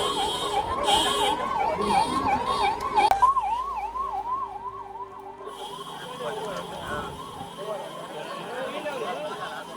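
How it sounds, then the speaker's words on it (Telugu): A wailing ambulance siren sweeps up and down repeatedly, fairly close, over background street noise and faint chatter of crowds on the Tiruvannamalai Giri Pradakshina pilgrimage route. "ఇదిగోండి ఇందాక పోయిన అంబులెన్స్ మనిషిని ఎక్కించుకొని వస్తా ఉంది వెనకాల"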